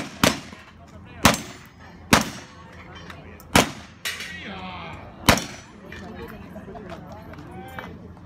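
Gunshots crack out at a shooting competition as competitors fire pistols, rifles and shotguns, with about six sharp, loud reports at uneven intervals against outdoor background noise.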